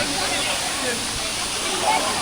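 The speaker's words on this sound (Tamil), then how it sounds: "Blue Lagoon waterfalls" The Blue Lagoon waterfall in Meghalaya roars as a loud, steady rush of falling water, a close and unbroken hiss with no change over its length.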